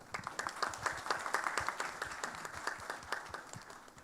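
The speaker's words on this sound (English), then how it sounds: "please join me in welcoming our distinguished panelists with a round of applause" Audience applause welcoming panelists at a sustainable-growth city forum in Pune, many hands clapping steadily at moderate distance for about four seconds, with no talk over it.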